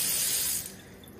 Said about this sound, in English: Y'all know I love to turn on the water for y'all.